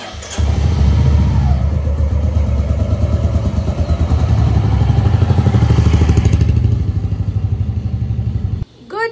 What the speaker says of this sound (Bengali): আমি জাস্ট একটু বাইকটা নিয়ে বেরোবো এখন